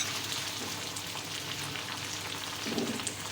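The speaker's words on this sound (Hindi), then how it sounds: "पेस्ट को हम 2 से 3 मिनट के लिए भुनेंगे" Chicken fries with green chili, ginger and garlic pastes in a pan, making a steady, dense sizzle with a soft crackle throughout, close up and without talk.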